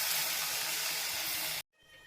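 Banana stem juice is poured into a hot pan for rasam, making a loud, steady hiss of sizzling steam that cuts off abruptly, followed by a quieter hiss. No talking.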